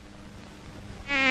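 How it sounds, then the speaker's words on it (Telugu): A fly's buzz swells in suddenly near the end, loud and close with a harmonic drone after a stretch of faint background hiss. "ఈ 50 ఈగలు"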